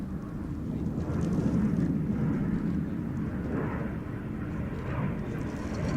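A display aircraft performs a low, aerobatic 'crazy flight' routine at an air show, its engine making a broad, steady rumbling roar that swells and fades slightly throughout.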